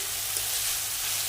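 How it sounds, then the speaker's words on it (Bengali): Tomato frying in a pan for an egg and cauliflower curry gives off a soft, continuous sizzle, steady and fairly quiet, with no voices. "এই টমেটোটা ভাজা হয়ে যাচ্ছে"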